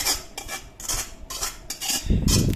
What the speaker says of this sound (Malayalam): അത് നന്നായിട്ട് തവി കൊണ്ട് നന്നായിട്ട് ഇളക്കി കൊടുക്കണം